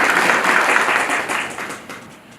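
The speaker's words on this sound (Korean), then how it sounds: "오늘 이 자리를 빛내주신 오창익 사무국장님께 다시 한번 큰 박수 부탁드립니다" A lecture audience claps in thanks for a speaker at the close of a local history talk, a full round of applause that fades toward the end.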